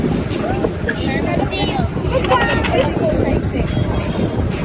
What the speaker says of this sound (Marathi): बोट चालू आहे